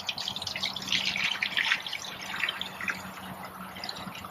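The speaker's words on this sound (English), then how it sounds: "I will pour it in the top portion of" About a gallon of water poured from a carried container into the top chamber of a Berkey Travel water filter, a steady close splashing stream that swells then eases, with no talk.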